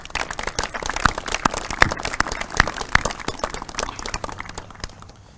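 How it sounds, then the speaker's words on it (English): Audience applause at a Patriot Day ceremony, a modest crowd clapping in a lively, uneven patter for about five seconds before fading out. "Let's all give them a round of applause."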